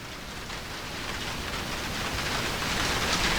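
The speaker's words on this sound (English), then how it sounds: "There is rain now quite heavily outside. You may hear that on the camera." Heavy rain falls outside in a steady, dense hiss that grows slightly louder over a few seconds, with no voices.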